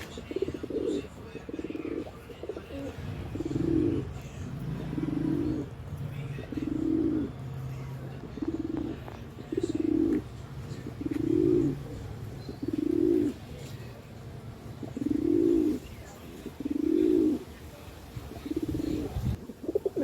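Pigeons coo steadily inside a loft, a regular series of soft, throaty calls rising and falling about every second, close by and unbroken by talk.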